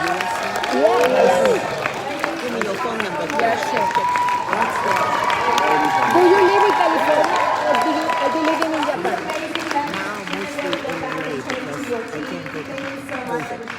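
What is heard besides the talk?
audience applause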